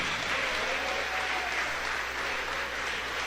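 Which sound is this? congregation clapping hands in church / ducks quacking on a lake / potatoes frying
congregation clapping hands in church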